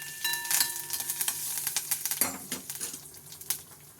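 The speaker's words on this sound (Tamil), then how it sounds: "கடுகு, உளுத்தம்பருப்பு, ஒரே ஒரு மிளகாய் வத்தல் நல்லா தாளிச்சிப்போம்" Mustard seeds, urad dal and a single dried red chili tempering in hot oil, crackling and popping in dense bursts with scraping stir strokes of a spoon against the pan, close and steady with no talking.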